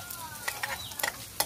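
Garlic fries in hot vegetable oil, with a quiet sizzle and several light scrapes and taps of stirring close by.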